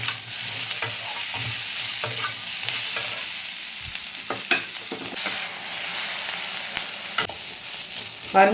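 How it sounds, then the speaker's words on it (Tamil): Onions being sautéed slowly for onion chutney, a steady moderate sizzle broken by periodic spoon scrapes and taps against the pan. "வதகிறதுக்கு கொஞ்சம் நேரம் ஆகும் இது நல்லா வதக்கணும் சுருளை வெங்காயம்"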